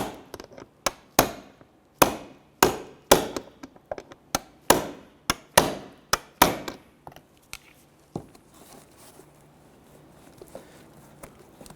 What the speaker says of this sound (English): I'm going to use a 10mm socket and extension and come on over here and give this a few taps.